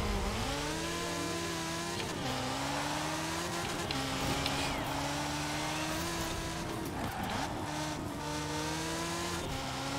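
A Lego Ferrari races in Forza Horizon 4, its engine droning with steady harmonic pitch and brief dips at gear shifts, plus occasional tire squeal, loud and continuous with no talking.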